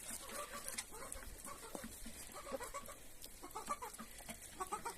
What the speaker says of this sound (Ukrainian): І оці, що квактать надумали